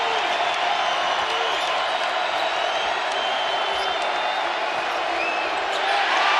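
Roar of a 20,000-strong crowd at a Maryland versus Syracuse college men's basketball game in an arena, a dense continuous din throughout with a broadcast voice over it.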